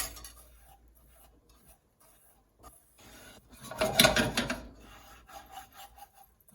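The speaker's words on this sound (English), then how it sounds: "So I will stir it every once in a while." A whisk scrapes and stirs sugar melting into caramel in a pan, faint intermittent rubbing strokes that swell into a louder burst of scraping before settling back to quiet stirring.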